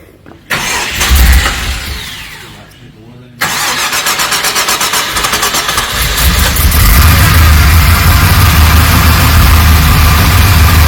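Rebuilt Holden VT Clubsport engine cranks with a stuttering starter whir, stumbles, then catches and settles into a loud steady idle close by.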